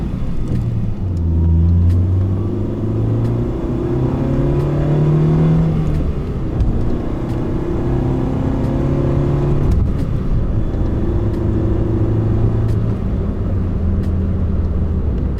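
A Honda Fit with a Hybrid Racing short shifter runs through its gears, its engine droning and rising in pitch with each gear, pausing between shifts, and faint sharp clicks from the shifter are scattered throughout with no talking.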